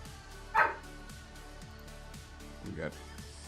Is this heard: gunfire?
no